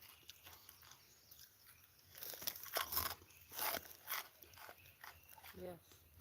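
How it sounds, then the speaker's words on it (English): A snack being crunched while eating outdoors during a freshwater fishing trip, several loud close bites and chewing bursts in an irregular rhythm over a steady background hiss. "You guys can hear me crunching?"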